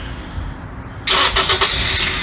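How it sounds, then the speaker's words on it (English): A Honda Accord engine cranks and fires up after a press of a 5704v remote starter, a sudden loud catch after a quiet second, then settles into a steady idle with a few rhythmic pulses. "And you see the car fires up perfectly."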